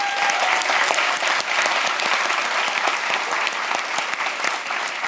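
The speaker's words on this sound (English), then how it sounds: "So a huge round of applause for you guys." Enthusiastic audience applause at a live podcast show, dense and sustained clapping from a large crowd that stays loud and steady throughout.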